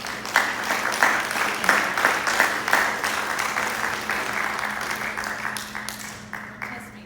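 A live audience at a YCP Omaha chapter gathering gives a speaker another round of applause: sustained, moderately loud clapping with a steady low hum underneath, tapering slightly toward the end.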